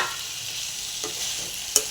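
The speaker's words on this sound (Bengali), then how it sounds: "আলুগুলো দিয়েও ভালো করে কষাবো" Potatoes being stir-fried in a tomato spice masala, a brief soft sizzle with a couple of spoon scrapes and a sharp clink near the end, no voices.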